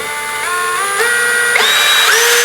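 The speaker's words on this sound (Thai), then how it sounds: "ใช้นิ้วกดก็ปรับความเร็วใช้ นิ้วเราเนี่ยควบคุมความเร็วเหมือนกับสว่านทั่วไปครับเนี่ย" An OSUKA OCHD802-D2 cordless drill whines close up as its trigger is squeezed, the motor pitch stepping upward in several surges over a couple of seconds, with no voices.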